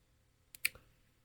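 A mouse clicking a connect button, two or three quick sharp clicks close together, faint and close, in an otherwise quiet room.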